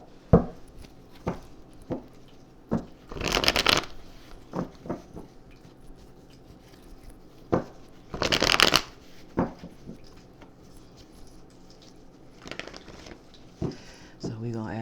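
Tarot cards shuffled in bursts, two longer riffling passages and several short taps and flicks of the deck, close and fairly quiet, with light talk between them.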